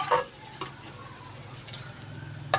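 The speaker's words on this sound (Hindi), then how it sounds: "देखिए आलू भी हमारे फ्राई हो चुके हैं" Potatoes fry in darkened ghee in a pot, giving a soft continuous sizzle broken by a few brief scraping stirs and light clinks, fairly close and without voices.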